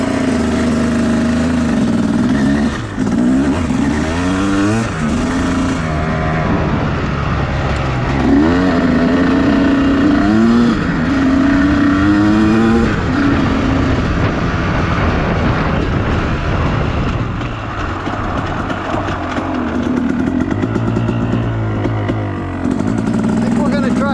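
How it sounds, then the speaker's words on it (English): A motorcycle engine running as the rider pulls away on a route toward a plateau, a loud continuous drone with rising and falling revs as it gets moving, while someone talks over it. "Bike is running and off we go."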